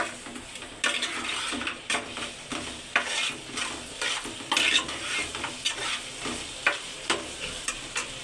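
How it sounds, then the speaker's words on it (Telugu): Chicken fried rice stirred in a hot pan, with a spatula scraping and knocking the metal in an irregular rhythm over a constant close sizzle, no talking. "బాగా తిప్పుకున్నాం"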